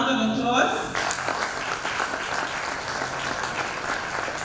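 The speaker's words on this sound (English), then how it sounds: "Let's give her a round of applause." Audience applause rolls through a fintech forum celebrating women in the industry, a dense, steady wash of many hands clapping that swells at the start and holds at an even level for several seconds.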